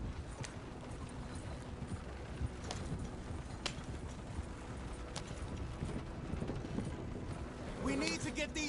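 Hooves of a horse ridden at a steady pace in Red Dead Redemption 2, a continuous clip-clop heard close and fairly quiet within busy game ambience, with voices briefly near the end.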